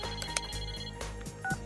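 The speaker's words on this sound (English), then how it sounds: "Okay. I ensure that Nanako has put down the knife before I answer the phone." A telephone rings in the video game Persona 4 Arena, a repeating electronic tone pattern pulsing evenly and clearly with no talk over it.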